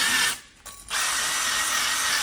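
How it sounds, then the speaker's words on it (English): A drill spins a wire brush against the brake mating surfaces of a Vivaro van, a loud, steady whirring scrape that cuts out briefly, then resumes and runs on alone. "Got my drill and wire brush."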